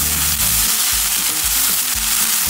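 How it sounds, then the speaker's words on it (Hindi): Green garlic fries in a hot pan with oil, giving a loud, steady sizzle and crackle close up, with no voices over it. "let them fry for a minute"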